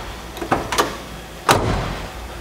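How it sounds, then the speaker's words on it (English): Door of a restored 1970 Buick Grand Sport GS455 opening and closing: a couple of close latch clicks and creaks, then one solid, heavy thump as it shuts. "That's a door, man."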